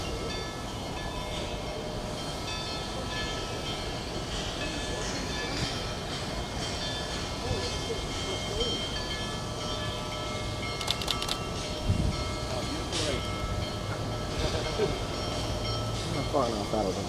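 Union Pacific 4014, a large steam locomotive, passes on a rail line in eastern Pennsylvania between Scranton and Jim Thorpe; a steady rumble of rolling wagons fills the scene with scattered clanks, and people talk faintly.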